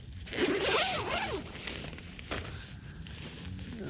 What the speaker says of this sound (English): What the hell's the zip?